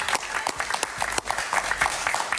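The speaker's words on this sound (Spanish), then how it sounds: "Un aplauso para Fabio" A studio audience on a live talk show applauds for a guest, with a dense wash of clapping and a few sharper individual claps.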